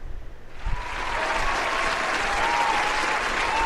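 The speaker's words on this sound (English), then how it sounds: "I get another round of applause." Loud, dense applause from a crowd starts abruptly after a short moment and then holds steady and full.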